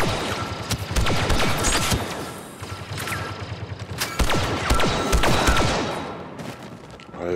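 Blaster weapons firing in Star Wars Battlefront 2, loud bursts of repeated shots with sharp cracks and thuds in irregular clusters, close and continuous throughout.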